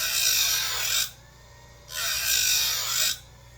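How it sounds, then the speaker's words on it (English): A hand file rasps across the teeth of a Husqvarna 357XP chainsaw chain in two long, close strokes with a quiet gap between them, with no voices. "I'm working on sharpening this chain."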